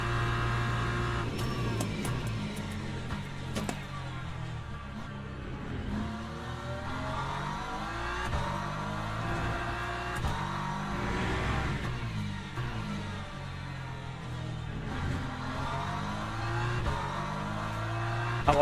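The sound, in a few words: race car driving in video game Le Mans Ultimate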